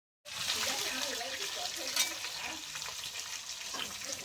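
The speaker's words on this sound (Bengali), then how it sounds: "কেটে ধুয়ে রাখা সবজিগুলো একসঙ্গে দিয়ে একটু ভালো করে ভেজে নেব" Chopped, washed vegetables for a vegetarian Malabar spinach dish fry in a hot wok: a close, steady sizzle that starts abruptly, with stirring scrapes and brief spatters over it.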